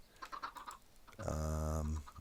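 A Minecraft chicken gives a single clear, drawn-out cluck, close and fairly loud, after a moment of faint background noise.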